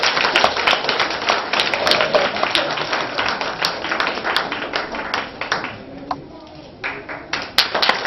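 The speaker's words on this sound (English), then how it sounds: "Big round of applause for her." An audience at a school celebration claps for a student receiving a trophy, a close, lively patter of many hands with individual sharp claps, briefly thinning before picking up again.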